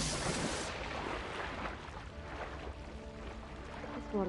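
A video game character plunges into warm water near a geothermal vent, a loud broadband splash at the start that fades into a low watery rumble and bubbling, with no voices.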